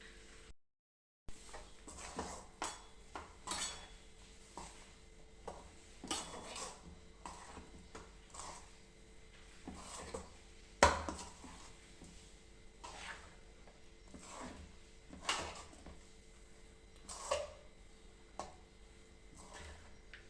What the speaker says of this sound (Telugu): మొత్తం కలిసే వరకు కలుపుకోవాలి